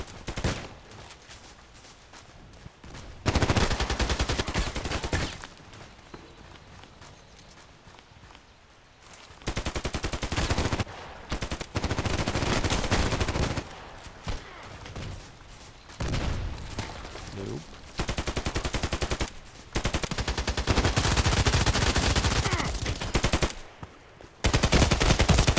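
Rapid bursts of automatic gunfire from the online shooter Contract Wars, loud and close, come in repeated volleys separated by brief quieter gaps, with footsteps and game noise in between.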